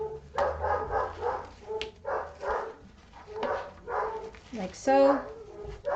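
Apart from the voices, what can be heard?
puppies whimpering and barking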